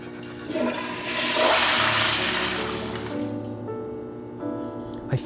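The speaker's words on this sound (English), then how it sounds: "You would just flush the toilet with your foot." An automatic toilet flushes with a loud rushing whoosh that peaks early and then drains away into a softer refilling trickle, close up in a small room.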